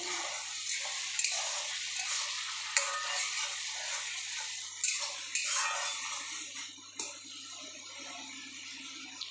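Masala with chopped tomato stirred and fried in a pan, a steady soft sizzle broken by occasional scraping clicks of the spoon, close and alone without talk.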